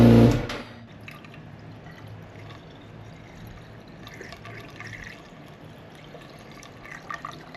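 Coolant drains and trickles out of a Suzuki GSX-S 1000GT motorcycle during a coolant change: a brief loud splash at the start, then a quiet continuous dribble with faint drips.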